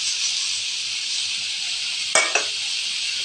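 Onions sautéing in a pan with rock salt and tamarind, a continuous bright sizzle with two short sharp clatters of stirring near the end, close by.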